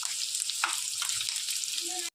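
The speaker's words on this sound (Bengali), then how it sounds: "আর রসুন ভেজে নেব, হালকা করে ভাজবো" Onion and garlic frying lightly in a pan, a steady bright sizzle that holds evenly for about two seconds, near and alone, then stops abruptly.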